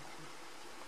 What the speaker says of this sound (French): On entend le ruisseau en bas.